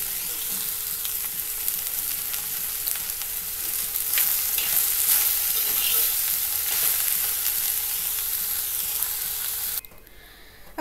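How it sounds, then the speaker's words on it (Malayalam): Salted okra frying in a pan: a steady, dense sizzle holds close and even for about ten seconds, then cuts off abruptly near the end, with no talking. "അപ്പോൾ നമ്മുടെ വെണ്ടയ്ക്ക് ഇടക്കിടന്ന് വേകുന്നുണ്ട്"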